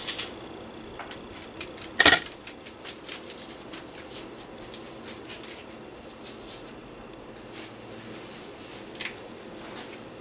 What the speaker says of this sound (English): is chopping your onions.